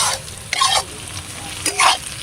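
Prawn filling for stuffed pointed gourd frying in a wok, a steady low sizzle broken by two short bursts of louder scraping and stirring, close by with no voices.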